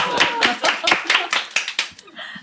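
A group of people applaud together in a room, with a quick, irregular run of sharp, close hand claps lasting about two seconds before fading.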